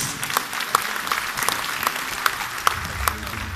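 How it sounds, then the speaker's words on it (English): Audience applause at a Baguio City awards ceremony for the Society of Outstanding Citizens, a steady, dense patter of many hands clapping at moderate distance. "A round of applause, please."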